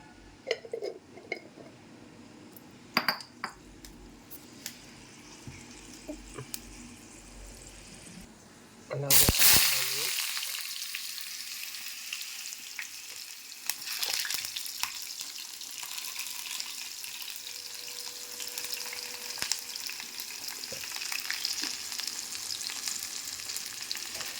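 A loud, steady sizzle erupts partway through as tempering seeds hit hot oil and keeps crackling and hissing, after a quieter stretch of clinks and kitchen handling.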